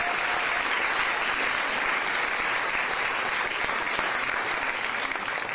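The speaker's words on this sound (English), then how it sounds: "Give them a round of applause." Sustained applause from a large audience, continuous dense clapping holding steady before fading slightly at the end.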